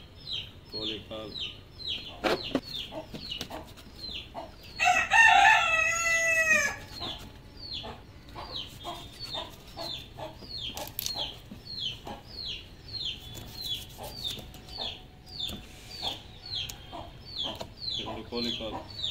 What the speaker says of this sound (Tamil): இந்த கோழி ரொம்ப டிஸ்டர்ப் பண்ணி சவுண்ட் பண்ணி